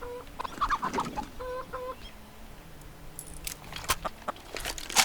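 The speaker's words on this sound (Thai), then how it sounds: "เอ้ยแหมขนาดไก่ยังตอบอ่ะ" Chicken clucking in Counter-Strike: Global Offensive, a few short clucks near the start, then steady in-game background noise with occasional sharp clicks and bursts.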